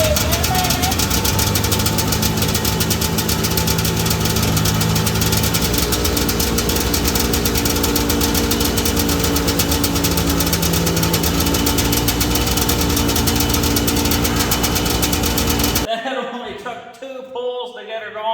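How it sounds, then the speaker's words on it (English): A John Deere 440 Liquifire barn-find engine runs loud and steady, a dense continuous drone with a rough, knocking idle that holds for about sixteen seconds, then cuts off abruptly into near quiet. "see how many pulls it takes to make this Deere run"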